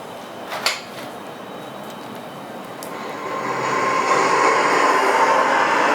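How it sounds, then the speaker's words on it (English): City noise soundscape played from a Google Home Nest Mini smart speaker, a rumbling train-like urban wash with a few clanks early on that swells louder after a few seconds and holds steady. "Play city noises."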